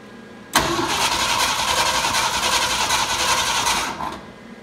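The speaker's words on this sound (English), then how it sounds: "here's a quick shot of us cranking it over with no spark." A 1965 Ford F-100 engine with no spark cranking over without catching, a steady rapid whirring churn that starts abruptly, holds for several seconds, then winds down, close and loud.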